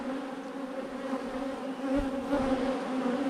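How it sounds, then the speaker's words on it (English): Honeybees covering a hive frame buzz in a steady, close, droning hum with a clear pitched tone and no voices. "if you can't see clearly your frame because it's covered with the bees"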